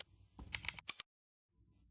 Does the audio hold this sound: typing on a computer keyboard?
yes